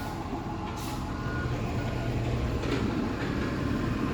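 Old Prairie Land trucks running an LRS collection route rumble steadily nearby, a continuous low engine drone with brief hissing air-brake bursts and faint beeps, no talking.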